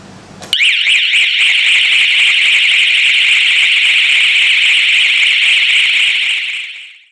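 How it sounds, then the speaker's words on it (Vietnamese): A fire alarm from a neighbourhood fire-safety alarm system blares as a loud, steady warbling electronic tone. It starts abruptly after a brief moment and sounds continuously for about seven seconds before fading, with no talking. "chuông báo động ở tất cả các nhà trong tổ liên gia sẽ cùng báo động"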